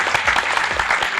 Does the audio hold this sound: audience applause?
yes